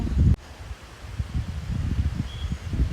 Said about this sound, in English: The wind is magical.